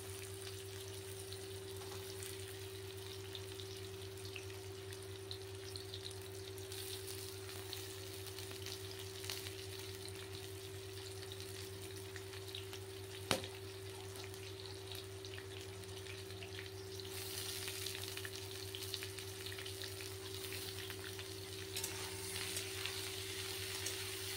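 Onions fry in oil with a bay leaf in a pan, a steady low sizzle running quietly and evenly throughout, with a brief clink midway and a slightly brighter stretch near the end.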